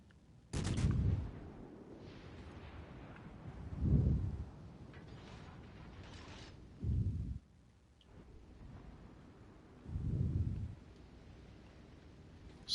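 Naval guns fire in a World of Warships cruiser battle, with an Atlanta shooting at a New Orleans: four heavy booming salvos spaced a few seconds apart, each with a deep rumbling tail, over quiet game ambience.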